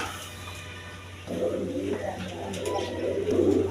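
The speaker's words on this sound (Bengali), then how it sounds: "সিলভার কালার রাসগোল্লা কবুতর।" Silver-coloured Rasgolla pigeons cooing in a low, rolling murmur that swells after a quiet opening and continues steadily, with a constant low hum beneath.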